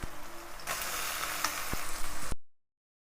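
Chicken pieces fry in hot oil, a short burst of close sizzling with a couple of utensil knocks before it cuts off abruptly into silence.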